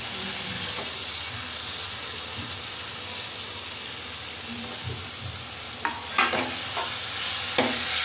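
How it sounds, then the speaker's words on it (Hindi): Potatoes and mixed vegetables are stirred and roasted in a pan for aloo sabji, with a steady close sizzle under repeated scraping of a spoon, and a few louder knocks near the end. "अभी सभी सब्जी को अच्छे से मिला लेंगे, भून लेंगे सब्जियों को।"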